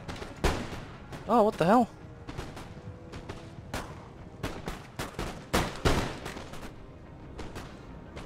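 Musket volleys and cannon fire from a Napoleon Total War battle in the Peninsular Campaign, repeated sharp cracks and booms scattered across the scene, with someone talking over the shooting.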